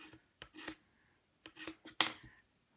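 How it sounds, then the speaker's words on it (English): Nail polish scraped across a metal nail stamping plate for nail art, heard as a few short, close, quiet rasping strokes separated by brief pauses. "I'm going to scrape,"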